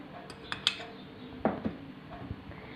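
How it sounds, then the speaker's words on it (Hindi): A spoon clinks against a bowl while beans salad ingredients are mixed, a few sharp close metallic taps spaced across the moment over a quiet background. "चलें इन सब चीज़ों को हम मिक्स कर लेते हैं एक बोल में"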